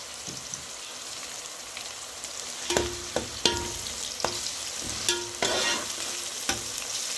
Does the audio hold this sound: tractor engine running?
no